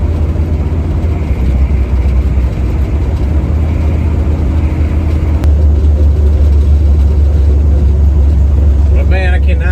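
A 1970 Nova with a 383 stroker V8 rumbles loud and close while driving, a deep, continuous engine drone that surges slightly partway through. A voice is heard intermittently over it.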